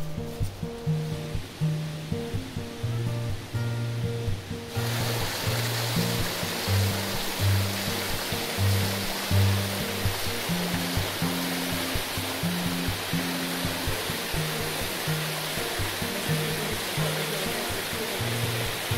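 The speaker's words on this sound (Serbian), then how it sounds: "konačno smo stigli do Čungajskog vodopada, koji je jedan od najnepristupačnijih vodopada Stare planine" Čungulj waterfall on Stara Planina pours in a steady, loud rushing roar that swells sharply after a few seconds, with faint melodic tones lingering underneath.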